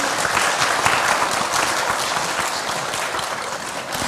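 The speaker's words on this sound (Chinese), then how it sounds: "让我们热烈掌声欢迎两位老师。" Warm, sustained applause from an audience welcoming two lecturers onto the stage at a Buddhist book launch forum, an even wash of clapping from start to finish, fairly moderate in level.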